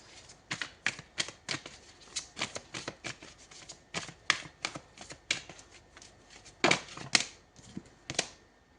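A deck of tarot cards being shuffled by hand in quick, close, crisp riffling bursts with short pauses between them, no voices.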